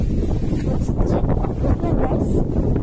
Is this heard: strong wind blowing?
yes